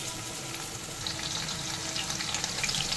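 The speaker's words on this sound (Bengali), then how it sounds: "এরপরে উল্টে পাল্টে একটু লাল করে ভেজে নেব।" Marinated chicken pieces coated in cornflour fry in refined oil in a kadai, giving a steady, dense sizzling hiss close up with no talking.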